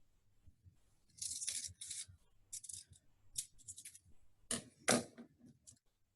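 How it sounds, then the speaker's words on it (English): Scissors cutting a paper rectangle lengthwise into two skinnier strips for a craft project: a series of close, quiet, crisp snips and slicing rasps arriving in irregular bursts with short pauses between. "I'm gonna pull out my scissors again and turn this rectangle into two even skinnier rectangles."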